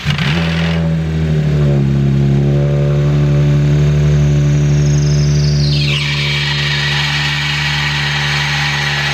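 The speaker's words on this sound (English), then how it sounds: "We are going to start the car for the first time since yesterday." A car engine, just fitted with a new water pump, cranks and catches, then runs loud and close with a rough idle before the revs climb sharply and hold high.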